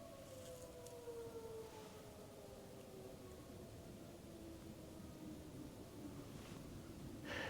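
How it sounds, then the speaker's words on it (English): A distant siren wails with a slowly falling pitch over steady wind and surf-like rumble, moderately faint throughout. "nothing like a siren to get your senses going"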